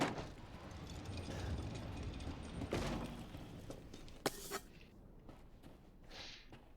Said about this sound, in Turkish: Yeni bir kapı açtık.